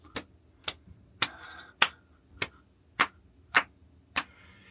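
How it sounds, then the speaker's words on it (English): Eight slow, sharp hand claps, evenly spaced about two-thirds of a second apart, close and crisp, alone with no talk, a sarcastic slow clap. "Slow clap"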